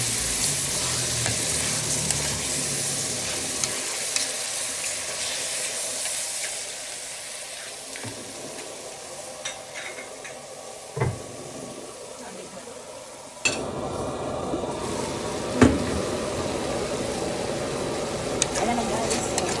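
Chicken stir-frying in a pan with sautéed garlic and onion, a steady close sizzle and hiss with occasional scraping knocks as the pieces are stirred around for a buttered chicken dish.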